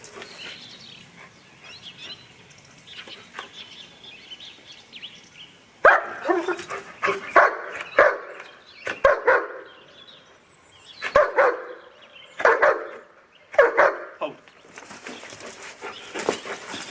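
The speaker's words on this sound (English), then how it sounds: "He'll stand there and bark." A dog barks during protection training, with quiet shuffling first and then repeated loud, close barks in bursts, some sharp yips between them, and brief pauses.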